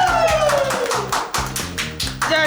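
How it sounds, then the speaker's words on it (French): A studio audience on a French evening talk show breaks into brisk clapping, dense and close, over a continuous music bed with a sliding tone. The applause pulses irregularly for a couple of seconds. "On peut l'applaudir s'il vous plaît."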